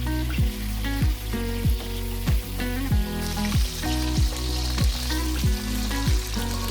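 Papaya pieces go into hot oil for a Bengali shukto, a loud, continuous frying sizzle running under a steady pattern of repeated rhythmic thumps.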